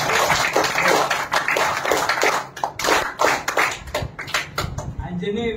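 Audience at a community evening gathering claps together in rhythmic bursts, a dense patter of many hands that starts and stops in groups, fairly close and loud, with some voices mixed in.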